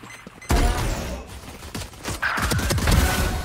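A satchel is thrown in the Valorant video game, followed by a sudden loud burst and a rumbling blast that carries on with thuds and crackling game noise. There is no talk over it.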